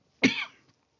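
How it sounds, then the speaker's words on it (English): A single sharp, close cough, loud and brief, fading quickly into silence. "this goddamn cough"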